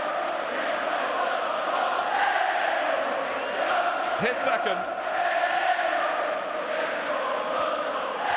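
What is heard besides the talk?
football stadium crowd cheering a goal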